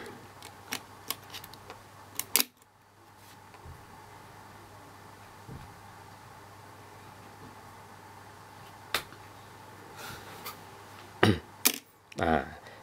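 A Pentax ME film camera fires its shutter at a slow speed, with a sharp click, a long pause of several seconds, then another click, among scattered faint ticks and handling noises.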